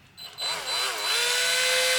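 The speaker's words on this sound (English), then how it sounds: "You get your drill and you stick this end in, like stick your wire into the end of it" A power drill spins up to straighten a length of wire for a homemade fishing lure, its motor rising from a short burst into a steady, close, high-pitched whine that holds to the end.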